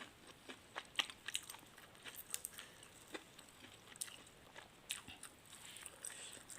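Close, quiet crunching bites and chewing of stir-fried stink beans cooked with curry paste, irregular crisp snaps spread throughout.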